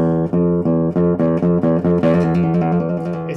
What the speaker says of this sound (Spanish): Ese es el sonido de una segunda menor.